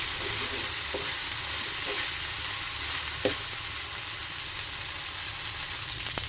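Ginger garlic paste sautés in a pan for a Tamil-style chicken curry, giving a steady, close frying hiss throughout with a few faint stirring clicks and no voices.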